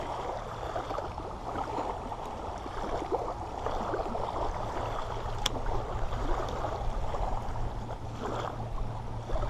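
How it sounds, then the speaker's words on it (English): A small speedboat engine drones steadily in the distance over flowing river water, a continuous low rumble with no voices. "There's a little speedboat that went past."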